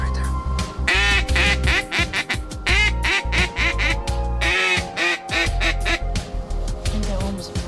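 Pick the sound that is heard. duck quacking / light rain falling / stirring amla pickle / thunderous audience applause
duck quacking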